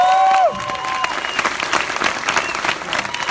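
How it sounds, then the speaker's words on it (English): An audience at a Nightmare on Elm Street anniversary screening applauds for Wes Craven, a burst of clapping and crowd cheering that follows a brief tail of a voice and continues steadily, moderately loud. "Round of applause for Wes Craven"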